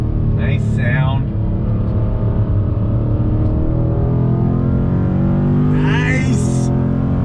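A Dodge Challenger Scat Pack Shaker muscle car engine roars steadily at high revs through corners, loud and close throughout, with brief bursts of a voice over it.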